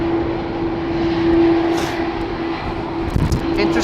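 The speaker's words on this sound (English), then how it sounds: "we are seeing an aborted takeoff from a Delta A330" A Delta Airbus A330 rolls off the runway at Schiphol Airport after an aborted takeoff, heard as a steady engine drone with a constant whine over low rumble, with one brief louder swell toward the end.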